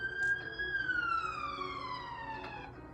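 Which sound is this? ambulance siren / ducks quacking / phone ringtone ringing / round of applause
ambulance siren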